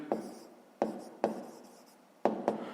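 Pen strokes writing numbers by hand on paper, five sharp scratchy strokes at uneven intervals, each fading quickly, close up and alone.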